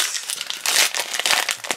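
Hands crinkle and tear at the stiff foil wrapper of a Magic: The Gathering Core Set 2012 booster pack, a close, loud series of irregular crackling rips and crumples.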